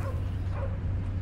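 A dog barks and yips in the Guardians of the Galaxy video game, fairly muffled over a steady low rumble, with no talk.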